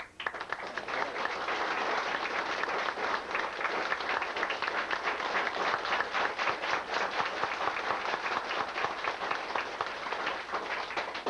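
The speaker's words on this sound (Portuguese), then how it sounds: "Uma salva de palmas para a dona da casa" A crowd at a family descendants' reunion applauds the hostess: steady, dense hand clapping that starts at once and holds at an even level for over ten seconds, with no voices standing out.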